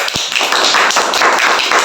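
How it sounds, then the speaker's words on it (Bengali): A group clapping hands together for a prize winner at a candle-lighting party game, a fast, loud burst of close, dense claps lasting throughout. "সবাই জোরে একটা হাততালি"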